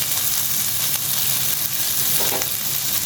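Shrimp fry in a pan with onion leaves and green chili, giving off a steady, close, loud sizzle with faint stirring and no talking.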